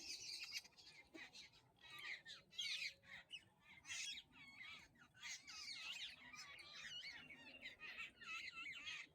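Parrots squawk and screech in repeated harsh bursts among other chirping birds, fairly faint and somewhat distant, calls overlapping in an irregular outdoor chorus.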